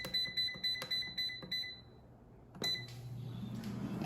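An air fryer signals the end of cooking with a quick series of close, sharp electronic beeps, followed after a short pause by another beep and a low hum or rustle as the unit is opened.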